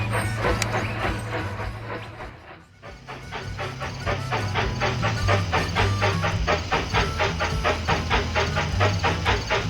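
A steam train in the video game Railroad Tycoon 3 chuffs in a fast, even rhythm of hissing puffs over a low rumble, briefly dipping before picking back up.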